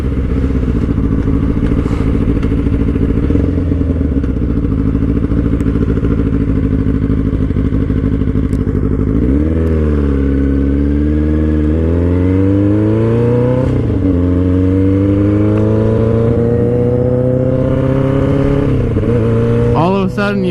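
A motorcycle is ridden on a road, its engine droning steadily before revving up through several rising gear pulls, loud and close throughout.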